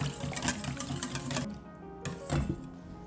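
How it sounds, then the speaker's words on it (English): Rapid rhythmic clinking of a whisk beating eggs and milk in a bowl, quick and steady with brief pauses, close up and fairly quiet. "Whisk together the eggs and milk until mixed together."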